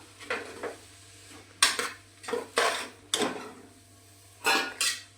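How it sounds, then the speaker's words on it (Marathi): Cabbage and chana dal being stirred in a pan, with a series of spoon-against-pan scrapes and clinks in bursts, close and fairly loud over a quiet steady hum. "परतायची चणा डाळ आणि कोबी मिक्स करून घ्यायचं छान."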